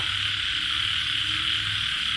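Frogs croak steadily in a rain-soaked rice field after heavy rain, a dense continuous chorus with a low pulsing croak under a bright high insect-like trill, fairly loud and with no voices.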